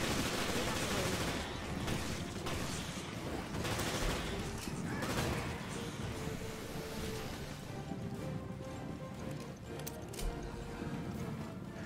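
Repeated gunfire in Resident Evil Revelations rattles amid a steady roar of ambient game noise, the shots blending into a continuous dense wash at moderate loudness.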